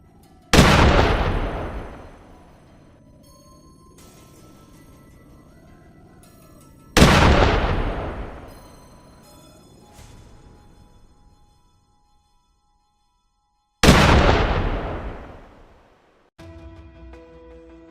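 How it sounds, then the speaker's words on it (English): Three loud, booming hunting rifle shots, each followed by a long decaying echo, spaced several seconds apart in open surroundings during a wild boar hunt. "one hunter raised his rifle and fired a precise shot that dropped the animal instantly"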